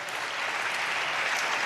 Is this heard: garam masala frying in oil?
no